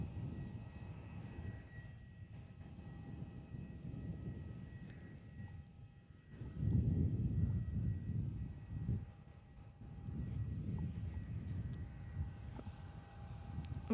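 A Jetstar airliner at Busselton Airport rumbles in the distance with a broad, low engine roar that swells around the middle and again near the end, steady and moderately loud with no voices.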